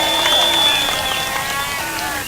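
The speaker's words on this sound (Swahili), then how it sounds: "tumpigie makofi kwa sababu ya hiyo" Crowd applause for Kenya's Deputy President Kindiki at a public gathering in Nyeri: a short, dense burst of clapping mixed with voices, steady and fairly loud throughout.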